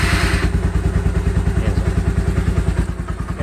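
A Bajaj Rouser 180 motorcycle engine idles close by with a steady, rapid mechanical clatter and thumping rhythm, its valve clearance ticking audible throughout.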